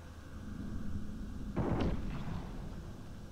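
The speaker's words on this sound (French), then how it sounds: "le policier il a tiré" A policeman fires a single gunshot in Detroit: Become Human, one sharp loud bang about halfway through with a short echoing tail over a low ambient rumble.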